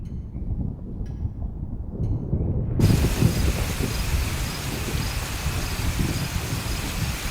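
Steady rain falls loud and close, a dense hiss of drops that swells suddenly a few seconds in and then holds even, with no voices.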